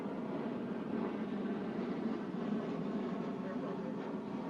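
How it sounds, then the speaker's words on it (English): An airplane passes overhead during a poolside chat, a faint, steady, broad engine rumble that holds at a low level throughout without clear rise or fall, and no voices stand out above it. "There's an airplane going over."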